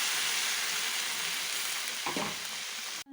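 Oil sizzling and frying in a pan while paneer curry cooks with garam masala, a steady hiss throughout with a brief stirring scrape near the end before a sharp cut.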